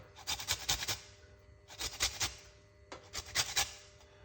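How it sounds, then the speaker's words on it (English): A lime is zested against a metal grater up close, three separate bursts of quick rasping strokes with short pauses between them and no voices. "we're going to zest the lime"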